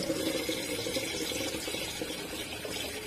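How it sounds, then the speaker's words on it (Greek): A small jar is rinsed under a running tap, the water gushing steadily and loudly with a splashing, hissing rush that hardly changes over a few seconds. "Εδώ τώρα πλένουμε το βαζάκι"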